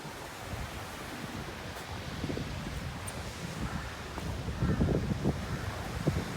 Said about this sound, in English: Beautiful ocean here, very scenic.